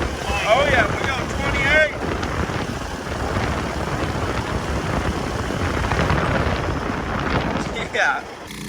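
A Trailmaster Mid XRX go-kart makes a top speed run, its engine a steady buzzing roar under heavy wind buffeting on the microphone, with people talking over it.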